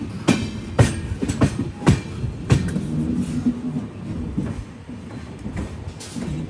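Kerala Sampark Kranti Express, a train heading toward Shoranur, rolls along with loud rhythmic clickety-clack wheel knocks over rail joints and a steady low rumble of the carriages, heard up close from on board.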